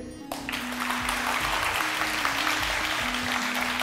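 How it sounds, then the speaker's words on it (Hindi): A studio audience on a Ramazan iftar TV show claps steadily and enthusiastically, sustained applause filling the room with a low hum beneath it. "अब ज़रा तालियां बजाइए"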